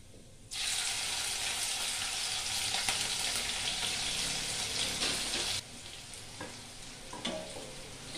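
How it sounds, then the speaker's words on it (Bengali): Whole garam masala, crushed ginger and green chili sizzle loudly in hot oil for tempering, a steady bright frying hiss that starts abruptly and drops lower after about five seconds, with faint utensil taps near the end. "ফোড়নে আমি গোটা গরম মশলা নিয়েছি, আর নিয়েছি আমি কাঁচা লঙ্কা আর আদা।"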